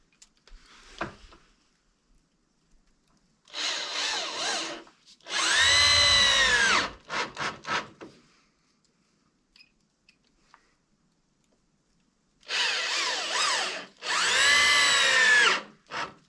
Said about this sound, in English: I'll go ahead and put a 3rd screw in between these 2 screws all the way down to draw everything tight